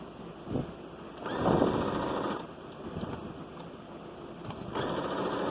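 A sewing machine backstitching on children's overalls fabric, running in short bursts of quick stitching separated by pauses, fairly quiet and close with no voices.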